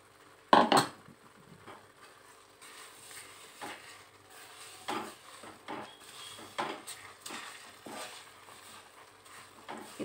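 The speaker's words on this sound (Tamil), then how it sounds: "இது 2 நிமிஷம் நல்லா கிளறி விட்டுடலாங்க" A spoon stirs semolina kesari with sugar in a pan, making soft scraping sounds and scattered light clinks, with one sharper knock near the start.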